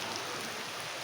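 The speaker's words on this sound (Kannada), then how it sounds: "ಮೈಸೂರಿನಲ್ಲಿ ಜೋರು ಮಳೆ ಇದೆ." Heavy rain pours down in Mysore, a dense, steady hiss of drops striking surfaces with no voices, even and unbroken throughout.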